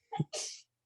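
A single close, quiet human sneeze: a short sharp intake followed by a breathy explosive burst, then silence.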